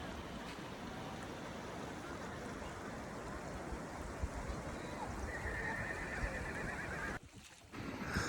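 A horse neighs amid a busy riverside spot with horse riders in a Kashmir valley, the whinny mixed with rushing stream water and distant murmur, a brief dropout near the end.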